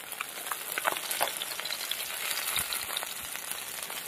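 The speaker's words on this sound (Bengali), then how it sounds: "সব মাছ ভাজা হয়ে গেছে, তুলে নেবো এবার।" Fish frying in mustard oil in a home kitchen, a soft continuous sizzle with scattered crackling pops, close but fairly quiet and without voices.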